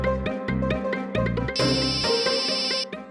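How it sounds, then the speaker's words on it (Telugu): A mobile phone ringtone plays loud and close, a repeating bright melodic tune with a sustained high chime in the middle, with no talking over it. "నీ ఫోన్ ఆగకుండా అరుస్తూనే ఉంది"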